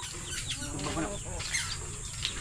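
Chickens cluck faintly in the background, a few soft calls scattered over a couple of seconds amid low ambient noise.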